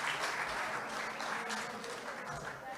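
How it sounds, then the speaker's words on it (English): An audience at a Rotary district conference claps in sustained, even applause, dense and steady throughout, heard from within the hall with no talking over it. "Please give them a round of applause"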